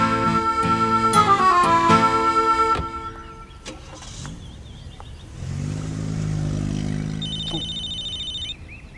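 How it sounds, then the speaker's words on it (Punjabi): A telephone ringtone chirps in a steady electronic pattern near the end of a scene in a Punjabi comedy film, following earlier music and a rumbling vehicle-like passage. "ਆ ਕਿਹਦਾ ਫੋਨ ਆ ਗਿਆ?"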